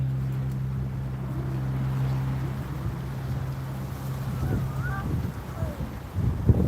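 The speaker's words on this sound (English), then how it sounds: "There's that wind." Wind buffets the microphone at a beach during saltwater fishing, a steady low rumble with gusty surges, a droning hum underneath and brief sounds near the end.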